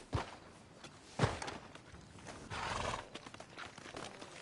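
A horse in Red Dead Redemption 2 walks with steady clip-clop hoofbeats and a snort or whinny partway through, fairly quiet and heard alone without talk.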